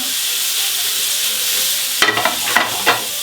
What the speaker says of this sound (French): Pommes de terre, tourne et retourne.